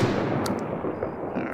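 Gunfire in Arma 3 on the Livonia map, a woodland setting, as a short burst of loud cracks over a dense, constant rumble of battle noise.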